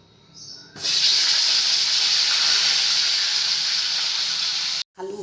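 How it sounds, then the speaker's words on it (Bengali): Potatoes dropped into hot mustard oil in a home kitchen burst into a loud, sustained frying hiss and sizzle that holds steady before a brief cut. "ওই তেলে কটা আলু ভেজে নেব।"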